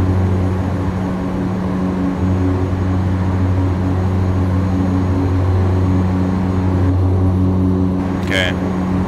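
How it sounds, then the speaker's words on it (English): Loud, steady propeller engine drone from an EMB-110 in the X-Plane 11 flight simulator fills the whole stretch, with a brief high chirp near the end. "I can't hear myself think with the loud props in my ears"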